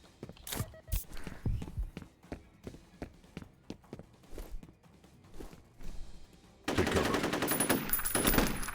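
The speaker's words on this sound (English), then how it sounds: "Suppression fire." Machine gun suppressing fire in the shooter game F.E.A.R.: Perseus Mandate, sharp separate shots and footstep-like thuds at first, then a dense rattling burst of rapid fire near the end, fairly close.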